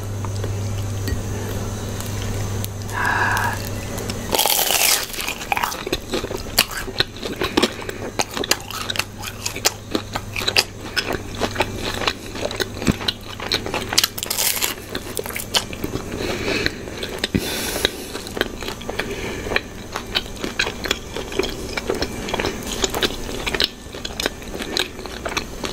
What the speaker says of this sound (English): I'm just gonna start with the crunchy stuff first.